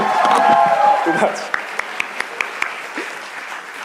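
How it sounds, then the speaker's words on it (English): Applause from the audience at a school graduation ceremony for the class of 2025, with loud, dense clapping over the first second and a half that tapers into a few scattered claps while a voice speaks briefly. "Can you have a round of applause?"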